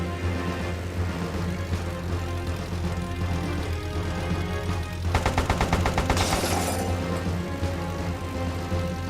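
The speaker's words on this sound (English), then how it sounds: "So I will shoot the TV once again." Rapid bursts of gunfire in the Airfix Dogfighter video game as a TV is shot. The crackling volley breaks out loudly partway through, over a constant droning engine and music bed.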